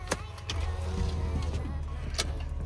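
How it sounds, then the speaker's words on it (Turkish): Electric power windows on a Lexus IS200 whir steadily as they close, over the low hum of the idling engine, with a few faint clicks inside the car. "Camları kapatıyoruz."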